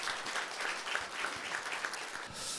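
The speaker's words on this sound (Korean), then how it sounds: "모두에게 박수 한번 크게 보내주시기 바랍니다" An audience at a public environmental debate gives a round of applause, many hands clapping in a steady, fairly quiet burst that lasts a couple of seconds.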